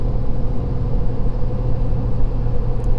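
A one-ton diesel pickup cruises at highway speed, giving a steady, loud low rumble of engine and road noise that stays even throughout with no talking.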